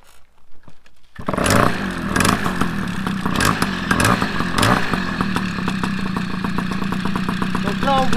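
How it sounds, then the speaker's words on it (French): An MBK 51 moped fitted with an RGD titanium variator starts after a few quiet knocks, then runs loud and close with a steady engine drone and a rattling clatter from the clutch. "on voit que ça démarre en prise directe. Après, on entend les claquements dans l'embrayage"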